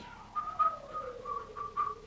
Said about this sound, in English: So while you sweep, you can practice your whistling, okay?